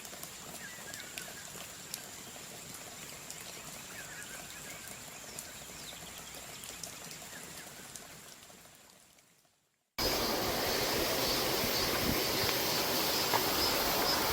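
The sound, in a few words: mountain valley stream in Yangpyeong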